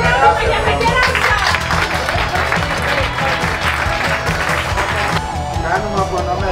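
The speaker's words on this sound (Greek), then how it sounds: "Ένα χειροκρότημα για τα κεράσια!" An audience at a pairs and teams competition awards event in Veroia, 2024, gives a dense, sustained round of applause, loud and steady throughout, with voices mixed in beneath the clapping.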